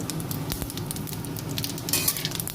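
Mustard oil sizzles in a pan with bay leaf and whole cumin for a kochu shak dish, a continuous close crackle with sharper spits near the end and no talk.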